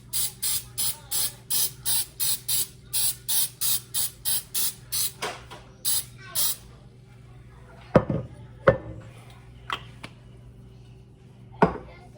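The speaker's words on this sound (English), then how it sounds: "I'm going to spray it with some Pam bacon release" A rapid series of short hissing sprays of Pam cooking spray into a bread pan, about a dozen bursts in a steady rhythm, followed by a few sharp clunks and taps nearby.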